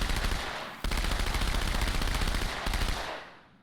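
Sustained automatic gunfire from a weapon in the Halo 2 video game, a dense rapid stream of shots with two brief breaks before it fades out.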